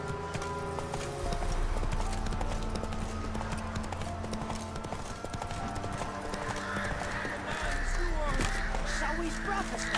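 Hooves of Roach, a horse in The Witcher 3: Wild Hunt, clip-clopping steadily throughout, mixed with game music and an occasional whinny or caw.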